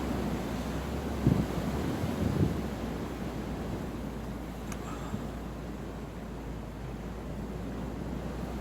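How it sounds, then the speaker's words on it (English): Strong wind buffets the microphone outdoors, a steady low rumbling roar that stays loud and constant throughout, with no talk and only a couple of faint knocks. "It's a good strong wind."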